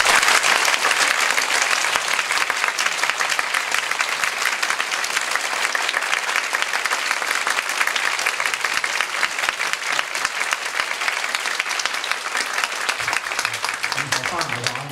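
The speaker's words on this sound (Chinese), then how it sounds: "那就可以给我们最多的掌声" Sustained audience applause at a school club performance event, loud and steady for the full stretch, dense clapping with crowd noise and a few voices cheering near the end.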